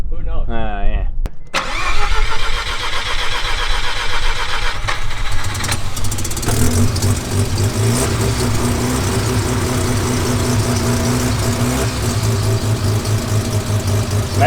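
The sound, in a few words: car engine starting and running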